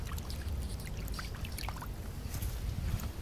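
A golf ball swished back and forth in shallow river water on a muddy Welsh riverbank, giving a steady close watery sloshing and trickling that runs the whole time with no talk.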